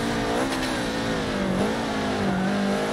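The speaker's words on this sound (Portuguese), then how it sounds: "E ao mesmo tempo você tem o som do... o som do motor de fora, né?" Subaru BRZ engine in the Forza Motorsport racing game, heard from an outside camera: a loud, steady engine drone whose pitch rises and dips through gear changes, with no talk over it.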